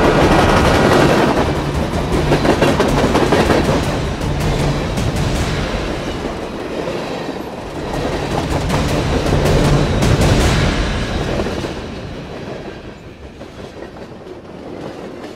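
A train sound effect in a Bengali ghost-story audio drama: a loud, close train rumbles over the tracks with rhythmic clickety-clack that swells and recedes, easing off toward the end.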